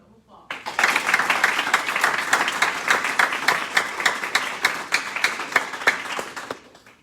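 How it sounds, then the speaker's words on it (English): Audience applause for a graduating military pharmacy class at a ceremony, a dense burst of clapping that starts abruptly, holds steady, then tapers off toward the end. "Please give Class 20-20 another well-deserved round of applause."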